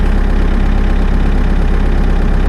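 A John Deere 4230 tractor engine runs steadily close by on a farm, a loud, constant low rumble with an even mechanical throb and no voices.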